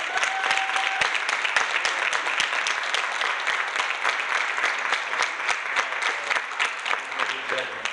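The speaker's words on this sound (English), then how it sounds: "Please give a round of applause and show some love for Janie," An audience at the annual Langston Hughes poetry slam gives performers sustained applause, dense clapping from many hands carrying on steadily with a few louder individual claps and faint cheering beneath.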